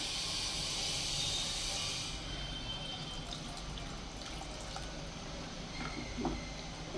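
A quiet, steady hiss and bubbling simmer from mutton kurma curry in a pot on the stove, with faint pops and gurgles throughout and no talking.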